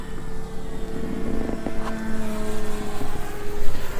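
Propeller drone of a 73-inch Hobbyking Sbach 342 RC plane on its maiden flight, a steady buzzing hum that rises and falls slightly as the aircraft passes, fairly close and heard alone.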